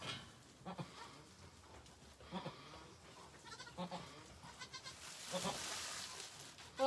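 A Boer goat bleats repeatedly during kidding, a twin birth in a pen, with loud, close calls rising and falling over several seconds alongside rustling and brief quiet voices.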